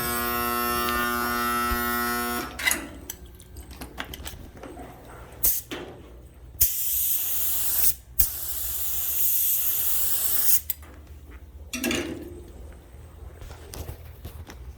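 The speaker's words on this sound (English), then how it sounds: "Getting ready to spray the activator." An aerosol can sprays activator over rosewood-pattern hydro dipping film floating in water for knife scales, in several loud hissing bursts of one to three seconds separated by pauses, preceded by a humming tone.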